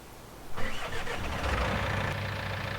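A John Deere tractor engine in Farming Simulator 19 cranks and catches at about half a second, then settles into a steady mid-pitched idle with a weeder hitched behind it.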